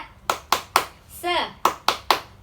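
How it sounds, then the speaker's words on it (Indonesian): A class of children performs the tepuk semangat clapping chant in an elementary lesson, with several sharp, evenly spaced group claps around a brief sung or spoken voice in the middle. "Seperti biasa, tepuk semangat."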